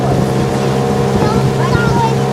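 Motorboat ride on the Ukhta river in the Komi region during a Fisherman's Day outing, its engine a steady, loud drone with wind rushing past the microphone throughout.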